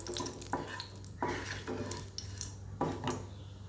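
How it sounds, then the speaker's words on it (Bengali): Cumin seeds and a bay leaf temper in hot refined oil in a wok. A quiet, low sizzle runs under several distinct knocks and scrapes of a utensil against the pan, over a faint steady hum. "এর মধ্যে দিয়ে দেবো কটা জিরে ফোড়ন এবার দিয়ে দিলাম একটা তেজপাতা ফোড়ন"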